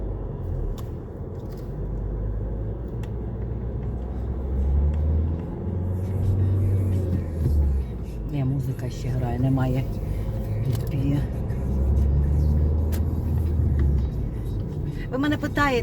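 A manual-transmission car driving, heard from inside as a steady low engine and road rumble that rises slightly at moments, with voices talking over it.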